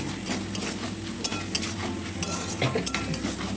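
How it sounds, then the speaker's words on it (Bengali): Boiled potatoes and peas tipped into a pan, with soft stirring and a few bright spoon clinks against the metal over a low steady cooking hiss. "এখানে আমি আলু মটর সেদ্ধটা দিয়ে দিই।"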